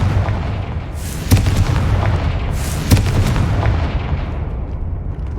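Repeated booming blasts of the Confringo fire spell in Hogwarts Legacy, two sharp thumps roughly a second and a half apart over a constant low roar of game ambience, with no speech.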